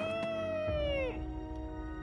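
A person vocally imitates a monster's roar during a Soul Calibur VI game stream, producing one sustained, close, high-pitched tonal cry that slides downward and comes out sounding more like a cat's meow than a growl.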